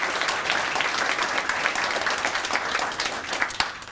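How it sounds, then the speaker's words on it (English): Audience applause for sponsors at a student-of-the-month breakfast: steady, dense clapping from a crowd throughout, moderately loud and even, with no talk over it. "and a round of applause to our sponsors."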